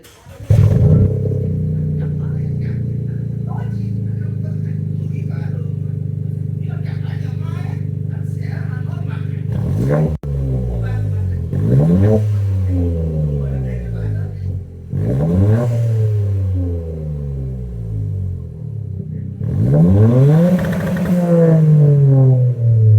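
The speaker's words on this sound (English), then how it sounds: "start it up, and then, yeah, we'll see how it sounds with the muffler" A Toyota GR Corolla's turbocharged engine barks through an aftermarket exhaust with the muffler fitted, giving a steady idle and then four or five sharp throttle blips that rise and fall, loud and close, with a person talking over parts of it.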